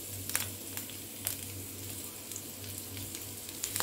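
Chopped garlic dropped into hot cooking oil in a wok, giving a soft steady sizzle with faint crackles and small pops, alone and fairly quiet.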